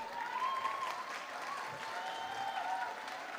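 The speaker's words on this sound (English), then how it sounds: "Round of applause when we have guests among us." Faint, distant applause from an audience at a school closing ceremony, steady crowd clapping sustained throughout, with faint voices underneath.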